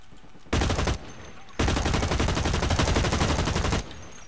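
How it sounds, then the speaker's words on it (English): Sustained automatic gunfire in the shooter Blacklight Retribution: a short loud burst, a brief pause, then a longer unbroken stream of rapid shots that cuts off abruptly. "Why did my gun stop shooting?"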